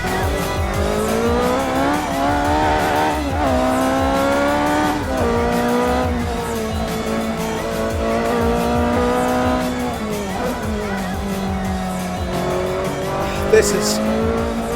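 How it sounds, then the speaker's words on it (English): A Ferrari V8 race car engine roars steadily at high revs, its pitch rising and falling through gear changes, with a brief tire or mechanical squeal near the end. "let you hear this raw sound of that Ferrari V8"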